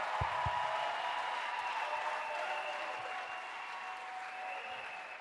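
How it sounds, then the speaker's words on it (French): A church congregation claps and cheers in praise of the Lord Jesus during a testimony service, a steady, dense wash of many hands that holds at an even level throughout and fades slightly toward the end. "Clap for the Lord Jesus."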